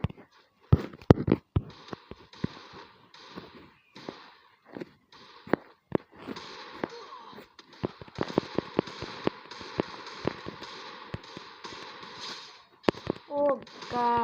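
Rapid gunfire bursts in a shooter video game while aiming for a headshot, sharp irregular cracks in quick clusters with short gaps, loud and close.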